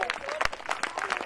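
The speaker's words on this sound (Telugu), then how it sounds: "కొట్టండి చప్పట్లు గట్టిగా, ఇంకా గట్టిగా." A church congregation claps loudly for a bride, with uneven bursts of hand claps, and a voice speaks over the clapping.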